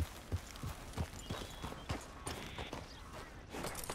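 Horse hooves clip-clop at a steady walking pace in Red Dead Redemption 2, a string of soft, regular thuds set against a busy game background.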